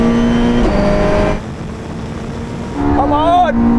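A Porsche hypercar and a Red Bull rallycross car launch in a drag race, loud engines droning then surging and rising in pitch after a brief drop, with an excited voice shouting over the roar.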